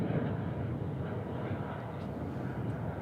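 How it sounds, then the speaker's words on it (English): Boeing 737-800 departing from runway 36 right, a steady broadband jet engine roar rumbling at moderate distance with no distinct peaks, under someone talking. "Checking out this 737-800 departing, runway 36 right, 737-800"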